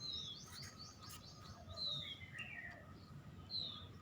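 A rescued baby bird that fell from a tree chirps with faint, thin, high tweets, a few short calls scattered over a quiet outdoor background hiss.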